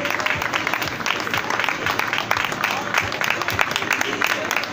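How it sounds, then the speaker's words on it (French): Spectators clap steadily for a podium finisher at the Trail de Pignan trail race, a dense continuous patter of applause with an announcer's voice over it. "sous vos applaudissements s'il vous plaît,"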